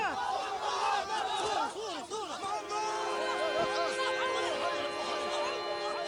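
A crowd yells and chants in frenzied shouts and cries during Gaddafi's capture and lynching, with loud, overlapping voices sustained throughout.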